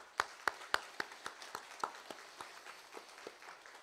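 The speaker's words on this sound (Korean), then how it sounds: "우리 호산나 찬양대에 격려하는 박수로 한번 올려드리겠습니다" Church worshippers give a choir a round of applause, a fairly faint run of distinct, evenly spaced hand claps that slowly taper off.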